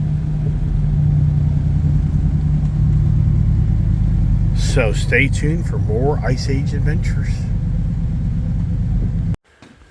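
A pickup truck with an empty bed drives along on a rainy day, its engine giving a steady, loud low rumble throughout. Someone talks over it briefly midway before the sound cuts off abruptly.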